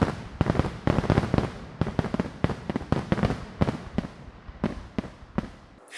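Repeated sharp fireworks bursts, about a dozen loud cracks and booms spaced irregularly over several seconds, each with a short crackling tail, heard alone without voices.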